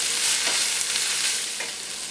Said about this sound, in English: Now add the garlic, stir well again, and saute the garlic for about another minute.